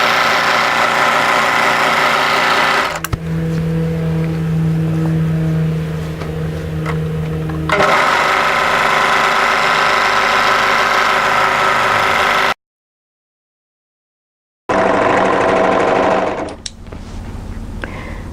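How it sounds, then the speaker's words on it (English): An overlocker sewing machine stitches cardigan hems in loud, close bursts of rapid whirring that run in several stretches, with a pause, a silent gap and shifts in pitch between runs. "And I'm going to overlock these from the right side."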